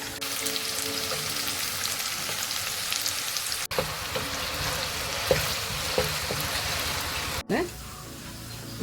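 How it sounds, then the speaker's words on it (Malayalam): A turmeric-coated potato fries in hot oil with a loud, continuous sizzle. A few sharp clicks of stirring or handling break through the hiss. "ഇത് നമുക്ക് വറുത്ത് എടുക്കാം."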